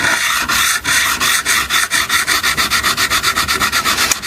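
Guitar frets on a Gibson Baldwin Signature Les Paul copy are levelled by hand, giving loud, close scraping strokes in a steady back-and-forth rhythm that speeds up toward the end, with no talking.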